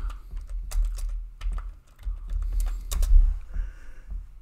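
Someone types a search query on a computer keyboard, with quick bursts of clattering keystrokes, irregular in rhythm, close and clear, broken by a short pause and no speech.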